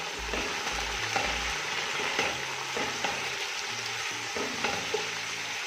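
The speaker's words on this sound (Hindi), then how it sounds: "इसके साथ हम चिकन शामिल कर देंगे और थोड़ी देर इसको हम भूनेंगे।" Chicken and mutton pieces fry in a pot for moti pulao, giving a steady close sizzle with stirring scrapes throughout, no talking.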